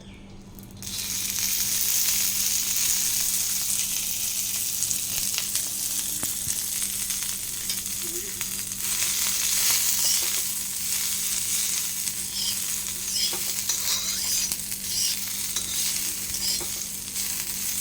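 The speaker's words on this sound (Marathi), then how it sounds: "आता याला आपण छानपैकी भाजून घेऊ घेणार आहोत ओके भाजायला याला थोडासा वेळ लागेल यावर थोडंसं तेलसुद्धा टाकणार आहोत" Cluster beans (guar) roasting in a pan with a little oil give a soft, even, continuous sizzle, heard close with occasional faint stirring noises and no talk.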